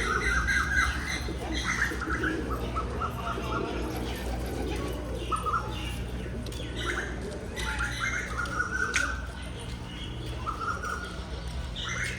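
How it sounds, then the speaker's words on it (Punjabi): Pigeons kept at a gurdwara coo and squawk steadily from close by, mixed with scattered chirps from other birds over a constant low background hum. "ਆ ਕਬੂਤਰ ਰੱਖੇ ਹੋਏ ਜੀ ਗੁਰਦੁਆਰਾ ਸਾਹਿਬ ਚ"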